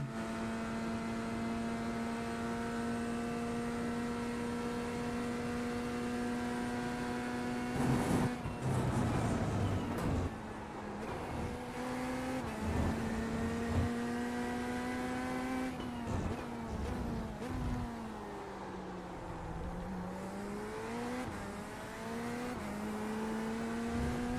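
Corvette GT3 race car in a racing video game at Algarve, its engine droning steadily at high revs with shifting pitch as it brakes, downshifts and accelerates through corners, loud and continuous with no talk.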